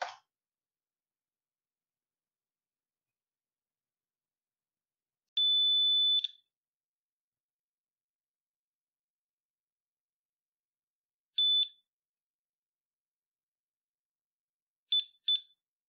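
A few high electronic beeps from a Windows computer in near silence: one long tone, then a short beep, then two quick beeps close together.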